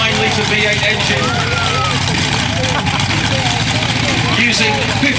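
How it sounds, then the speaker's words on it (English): A monster truck's big 9-litre V8 engine rumbles loudly and steadily throughout, a continuous heavy low drone at a truck show with crowd noise and voices mixed in. "That big 9-litre V8 engine"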